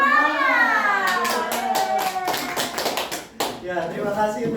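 A class of children claps the tepuk semangat rhythm during a primary school lesson, sharp rapid claps in patterned bursts mixed with their sung chanting voices, close and loud.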